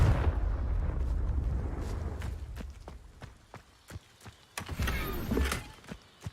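A Confringo blasting spell from the video game Hogwarts Legacy, striking rocks: a loud, rumbling burst that fades, followed by scattered sharp cracks and debris clatter. A second swell of noise rises near the end.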